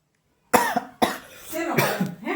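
A single person coughs twice near the microphone, two sharp bursts close together, followed by a short vocal sound and a brief voiced throat noise at home.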